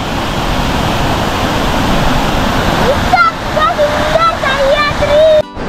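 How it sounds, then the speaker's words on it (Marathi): The Dhangar waterfall near Badlapur, heard from the top, gives a steady, loud, broadband rush of falling water, with a voice speaking over the second half. "इथूनच खाली धनगर वॉटरफॉल पडतोय।"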